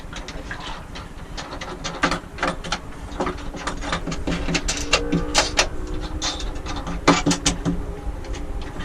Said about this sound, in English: go tighten these down from the other side